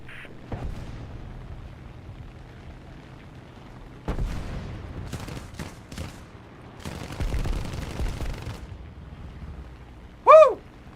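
Tank cannons in the War Thunder combat game fire heavy booming shots in irregular bursts with rumbling, crackling blasts, and a short tonal chime near the end.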